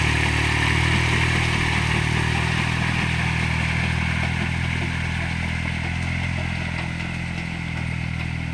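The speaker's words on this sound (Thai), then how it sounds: "ดูโรตารี่ทำงานครับ" A 20 hp walking tractor fitted with a 1.4 m rotary tiller churns a flooded paddy field, its engine droning loud and steady with a rattling, clattering tone close by.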